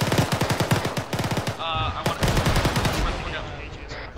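Automatic grenade launcher fire in the military video game Arma 3: a rapid run of sharp, evenly spaced reports for about a second and a half, then scattered heavier blasts and rumbling echoes, loud and close.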